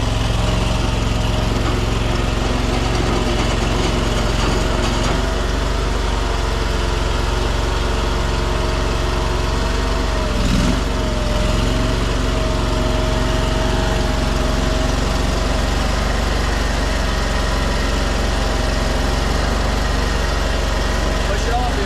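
A cheap Chinese mini skid steer's small engine runs loudly and continuously throughout, a steady droning hum with a brief bump partway through.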